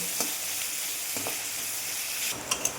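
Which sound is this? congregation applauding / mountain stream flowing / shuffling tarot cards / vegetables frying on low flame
vegetables frying on low flame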